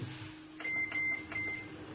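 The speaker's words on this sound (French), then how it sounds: "Donc là on met 3 minutes et on attend." Microwave oven keypad being set for three minutes, three short electronic beeps close together over a low steady hum.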